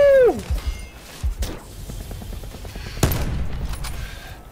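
Rapid bursts of automatic gunfire ring out in a Black Ops 4 match, steady rattling shots running through the clip with a louder blast near the middle and in-game effects at the start.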